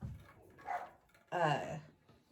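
A dog barks and yelps in a couple of short bursts, mid-distance, with some background noise between.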